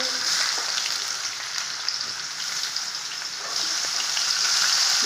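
Onions, tomatoes and beans sautéing in hot oil for Schezwan noodles, a loud, steady bright sizzle throughout with faint stirring scrapes and no speech.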